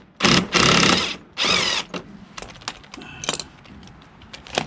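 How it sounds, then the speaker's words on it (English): Three short, loud bursts of a cordless impact driver close by, followed by scattered clicks and rattles of handling. "Battery's dying on my drill, my impact."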